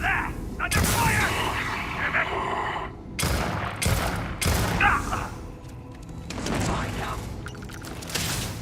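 Gunfire in a fantasy role-playing video game: repeated loud bursts of shots and booms crackle through the whole stretch, with brief quieter gaps between volleys, mixed with game effects and occasional speech.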